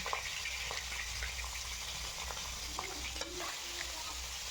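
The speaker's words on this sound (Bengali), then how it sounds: "কড়াই গরম করে কড়াইতে সর্ষের তেল দিয়ে মাছের মাথাগুলি ভেজে নেব" Hilsa fish heads frying in mustard oil in a heated wok, a soft continuous sizzle with occasional light clinks and stirring sounds, close but quiet, no talking.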